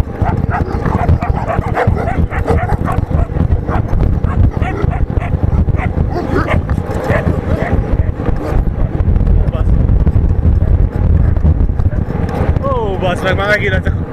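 Dogs bark and whimper near a moving vehicle on a road trip in Transylvania, the barks loud and repeated over constant road and engine rumble, with someone talking throughout.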